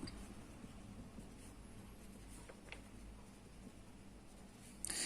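Pen writing on paper as an accounting entry for cash at bank is noted on the asset side: faint, steady scratching strokes, very quiet and close, with no speech.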